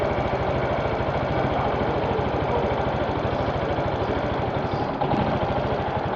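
A Yamaha Majesty YP250 scooter engine idles with a fast, even chugging pulse, sounding rough and close as if about to stall, with a brief dip near the end.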